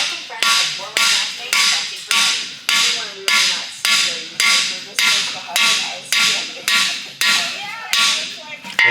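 Cylinder sleeves are driven into an engine block with a hammer in a workshop: a steady series of loud, sharp metallic blows, about one or two per second, each ringing briefly before the next, with no talk.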